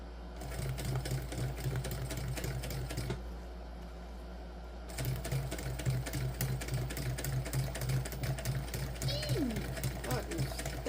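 A domestic sewing machine stitching through thick bag fabric, a steady fast mechanical rattle that pauses briefly and resumes, with a low motor hum throughout and someone talking over it.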